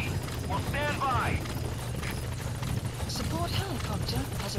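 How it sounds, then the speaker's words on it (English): The support helicopter arrives in the video game Metal Gear Solid V: The Phantom Pain, its low rotor drone steady beneath radio-style voices talking over it. "Support helicopter has arrived."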